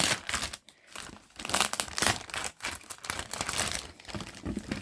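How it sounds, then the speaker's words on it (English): Plastic bag crinkles and rustles loudly up close, in bursts of crackling with brief pauses between handfuls. "we'll get you out the plastic bag as well"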